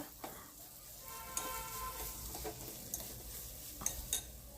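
Salted chutney gets stirred in a pan over a low flame: a soft, faint sizzle runs underneath, punctuated by a few light scrapes and taps of a spoon against the pan.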